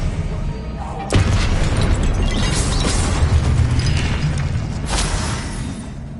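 In the video game Hogwarts Legacy, an Expelliarmus spell goes off with a sudden booming blast followed by a rumbling, crackling burst, and then a second, smaller impact a few seconds later.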